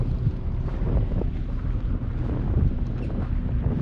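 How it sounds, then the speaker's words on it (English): Steady wind blows across a seaside shore near Durban where boats sit on the water, a continuous loud rush with microphone buffeting and a low surf rumble throughout, no voices. "The wind seemed to have picked up a little."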